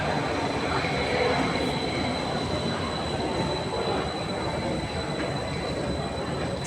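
Pink metro train running along the line on the Athens route between Agios Antonios and Neo Faliro, a steady loud rumble of wheels on rails with faint squeal, continuous and close throughout.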